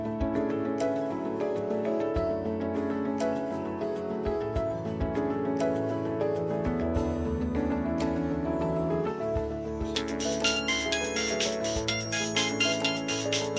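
A phone ringtone plays a looping electronic melody, loud and clear, with a brighter chiming section near the end and no one talking.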